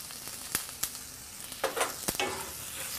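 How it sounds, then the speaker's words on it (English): Baby artichokes sauteing with garlic and a little salt in a pan, giving a steady soft sizzle broken by several sharp clatters and scrapes as they are tossed and stirred, close by with no talking. "saute these artichokes along with the garlic for about a minute"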